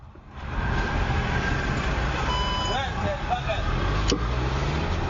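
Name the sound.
car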